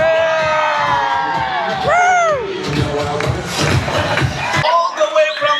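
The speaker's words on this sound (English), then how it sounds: "Please put your hands together, JP." Crowd cheering and whooping at a sail-away party aboard a cruise ship, loud and close with shouts over a host's voice and music.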